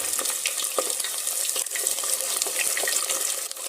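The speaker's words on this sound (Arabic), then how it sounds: "هون اخواتي نبلش نقلي الزهرة" Cauliflower fries in hot oil in a pan, a dense, continuous crackling sizzle with scattered pops, close and steady with no talk.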